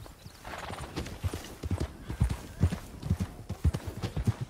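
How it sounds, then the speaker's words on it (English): In Red Dead Redemption 2, a horse's hooves clip-clop at a steady walking rhythm, soft and low, with a faint whinny early on and no talking. "Good horse."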